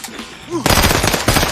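Rapid automatic gunfire bursts out loud and dense in an anime fight scene as a crime syndicate opens fire, following a brief whistling swoop and faint voices beforehand.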